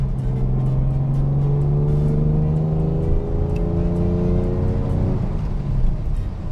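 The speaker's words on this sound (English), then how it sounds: "all you have to do is drop a gear" A 1962 Jaguar E-type 3.8 liter coupe, Series 1, drops a gear and accelerates, its engine note climbing steadily then easing off, loud and close with steady road noise.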